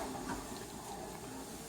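Hot water from boiled potatoes pours out in a continuous splashing hiss, close and steady throughout, with no talking.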